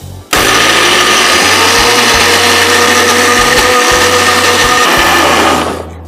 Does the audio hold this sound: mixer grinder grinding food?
yes